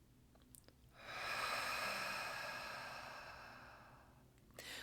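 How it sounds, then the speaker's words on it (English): Slow exhale during a guided breathing exercise, breathed out through the mouth, a single broad airy whoosh that swells and fades over several seconds, close and quiet with no talk. "We always inhale through the nose, exhale through the mouth with a verbal exhale"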